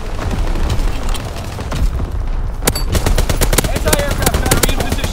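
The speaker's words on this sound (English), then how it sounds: "Anti-aircraft burst has commenced." Anti-aircraft artillery fire in Call of Duty WWII team deathmatch on the Shipment 1944 map: loud, dense rapid bursts of gunfire and booms, growing into fast repeated cracks toward the end.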